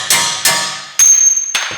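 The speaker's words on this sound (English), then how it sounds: "so we'll have to hammer them out" Four sharp metallic hammer blows drive splined bolts out of the front hub and shock absorber of a Ford Mondeo Mk5, at a steady pace, each ringing briefly, with a faint high ring lingering after the third.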